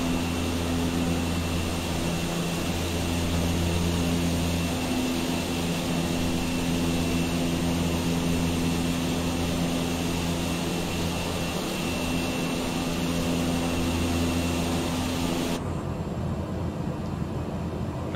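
Small airplane in steady flight over the Upemba Depression wetland marshes in Africa, a constant loud engine and propeller drone with a sustained low hum, cabin sound throughout, cutting to a quieter tone near the end.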